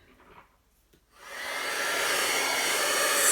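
A heat tool switches on and blows steadily to set embossed ink on a watercolored card, a rising airy whoosh that settles into a constant close hiss after a second of quiet.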